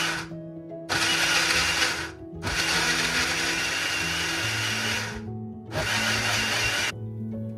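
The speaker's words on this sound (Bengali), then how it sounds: "ঝিঙেটাকে 2টো কাঁচা লঙ্কা দিয়ে আর একটু জল অ্যাড করে আমি ভালো করে মিক্সিতে পেস্ট করে নিচ্ছি" A kitchen mixer grinder whirs loudly in several bursts as it purées ridge gourd with two green chillies and water, pausing briefly between the runs.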